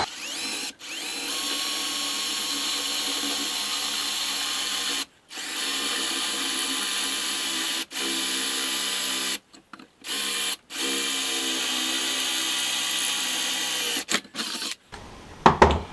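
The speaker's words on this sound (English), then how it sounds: "we're going to drill the holes." A power drill whirs steadily for several seconds at a time, drilling mounting holes for a fish finder gimbal mount, stopping and restarting in bursts, close by with no talking.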